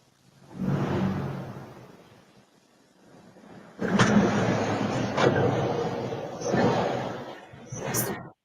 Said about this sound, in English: Truck, I believe.